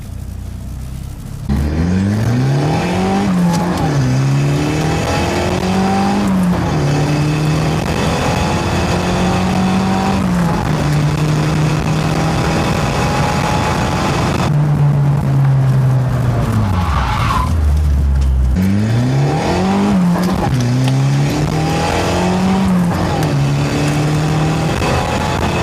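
A car engine revs hard as the accelerator pedal is pressed to the floor, rising and falling in repeated loud swells across most of the clip, with a brief dip mid-way before it roars up again; no talking.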